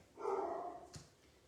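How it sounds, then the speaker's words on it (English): A puppy gives a single faint yip or bark from a short distance, with a soft knock shortly after and quiet room tone. "Come on, Sabrina, get those puppies outside."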